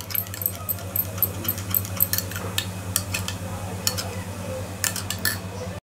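Milk cream (malai) being whisked in a bowl, with a steady run of light metallic clinks and taps of utensil against the bowl over a constant low hum, fairly close and without talk.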